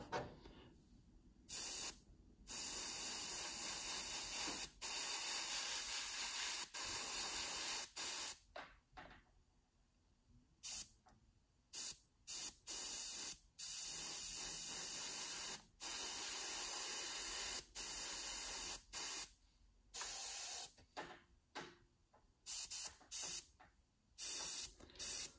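An airbrush sprays paint onto parts of a Tamiya 1:12 Ducati Superleggera V4 model in repeated hissing bursts, some brief and others lasting several seconds, separated by quiet gaps.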